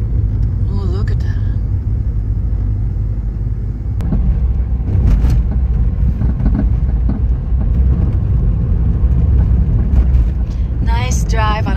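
A car drives along a steep road above the town of Fuji in Japan on a winter day, giving a constant low cabin rumble and road noise. Voices come through at moments.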